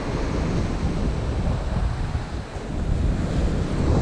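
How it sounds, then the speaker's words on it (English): A heavy nor'easter roars across Tathra Beach on the south coast of New South Wales. Strong gusts buffet the microphone and mix with constant surf, loud and close, with no voices. "there's a really heavy nor'easter blowing. You can probably hear the wind"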